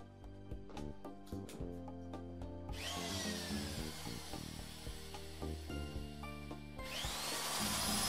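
Sheet metal being cut to size for tank filler necks in a workshop: a power tool runs steadily and loud, after a stretch of background music, with a sharp cutting screech rising near the end.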